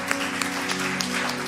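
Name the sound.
applause in church service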